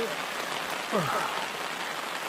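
Steady, dense rain patters on the surface at a small reservoir, filling the whole stretch as an even close hiss. A brief faint chirp-like tone rises midway.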